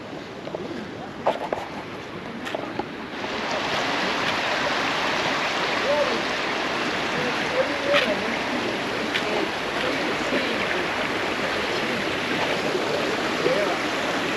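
Fast-flowing floodwater stream after heavy rain, a steady broadband rush of water near the bridge that swells after the first few seconds and stays continuous.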